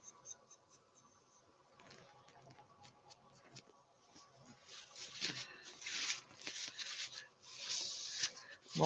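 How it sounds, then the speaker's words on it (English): Soft rubbing and scuffing of a cloth applying sanding sealer to a turning yew wood bowl, quiet and intermittent, growing busier toward the end. "Quick sanding seal to bring the colour out."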